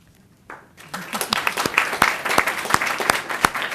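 Applause from an audience at a regular board meeting starts abruptly and builds into steady, dense clapping that continues to the end, heard fairly close and alone without speech.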